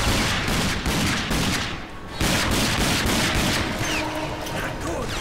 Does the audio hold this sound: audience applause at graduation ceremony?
no